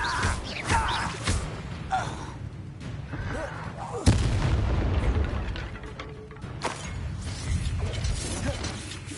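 Incendio fire spell blasting during combat in Hogwarts Legacy, with whooshing bursts, a sharp boom midway followed by a loud roaring rumble, amid layered battle effects and clattering mechanisms.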